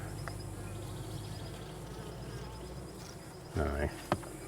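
Honeybees buzz steadily around a hive with a queen bee among them, a continuous close drone, joined near the end by a louder burst as one bee passes right by.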